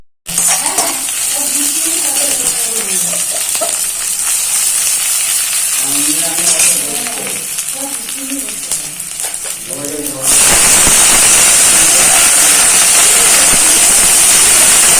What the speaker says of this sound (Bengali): ফার্স্টে কুচনো পেঁয়াজটা আমরা ফ্রাই করে নিচ্ছি।